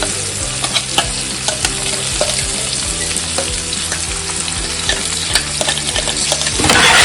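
A green chicken pulao mixture with green chillies is stirred and fried in a pan, with steady scraping strokes over continuous sizzling that grows louder near the end, and no talk.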